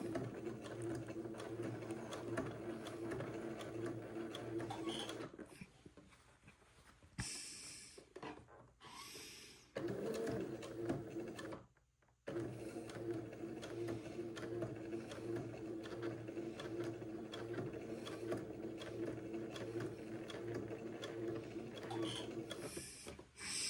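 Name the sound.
sewing machine stitching along fold line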